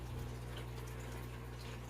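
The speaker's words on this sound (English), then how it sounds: "trying to pour the water in here without disturbing everything is going to be nearly impossible" Fresh underground well water poured along the inside wall of a snail habitat tank over mulch, a steady continuous pouring and gushing wash with a low hum beneath it throughout.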